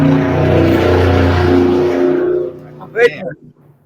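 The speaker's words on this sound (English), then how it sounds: "Truck." A truck on a rural road near gravel roads in Mechanicsville roars loudly close by, its engine rumble fading away, followed by a brief sharp noise and quiet.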